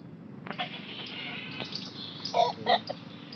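Roosters cluck and call in short bursts over a steady background hum, with a couple of louder squawks near the end.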